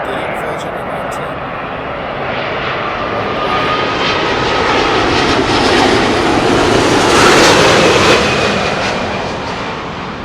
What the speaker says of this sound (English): A350 Virgin Atlantic.